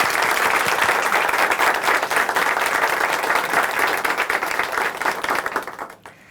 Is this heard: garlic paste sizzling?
no